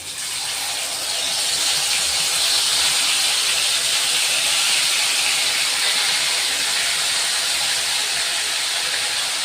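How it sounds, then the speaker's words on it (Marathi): Paneer pieces sizzle and hiss loudly in hot oil, a steady bright frying crackle that swells as the batch goes in and holds without a break. "हे बघा हळूच आणि असं तेलात सोडायचं।"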